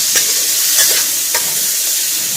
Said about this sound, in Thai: ก็ผัดลงไปแบบนี้นะคะ